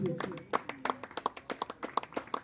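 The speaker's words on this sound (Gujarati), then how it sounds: "બધા તાળીઓથી વધારીશું મિત્રો" A crowd at a village education awards event claps in a steady, regular rhythm to honour a student, with a voice talking over the clapping.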